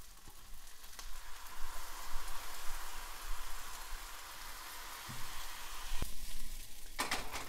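Soy sauce hits a pan of fried rice being stir-fried, producing a loud, continuous sizzle with scraping and tossing bursts near the end.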